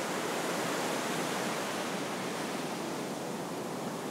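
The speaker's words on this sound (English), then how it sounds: "This beach stretches as far as you can see" Ocean surf rolls onto a long beach at Crowdy Bay National Park, a steady wash of breaking waves filling the whole clip as broad, even noise with no voices over it.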